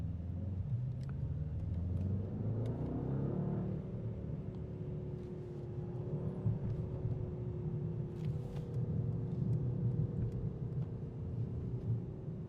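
A 2024 Mercedes S 63e plug-in hybrid gives a low, steady exhaust rumble, a deep continuous drone that swells slightly before settling, heard alone without talk.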